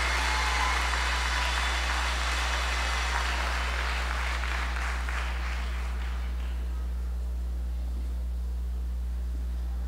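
Audience applause fills a graduation ceremony hall, a steady wash of clapping that fades out after about six seconds, over a constant low electrical hum.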